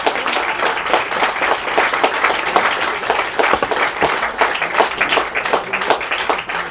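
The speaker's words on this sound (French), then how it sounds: "On peut l'applaudir encore une fois." Lively audience applause after an interview with a French singer, many hands clapping briskly and evenly at close range for the whole stretch with no talk over it.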